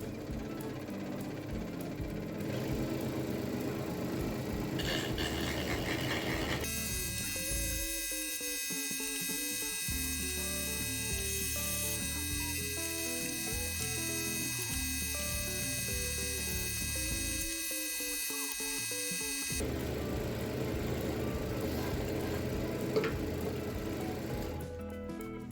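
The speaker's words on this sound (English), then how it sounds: "So we're going to use the rotary cutter on the Lumberjack 16-inch scroll saw." A Lumberjack 16-inch scroll saw fitted with a rotary sanding cutter runs steadily as a buzzing, humming motor with a rough grinding edge, loud and continuous, easing off near the end.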